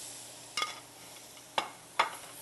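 Rib eye steaks dropped one after another into a hot, non-nonstick anodized aluminum pan: three sharp sizzling hisses at separate moments, each bursting loudly then fading, against a quiet kitchen background.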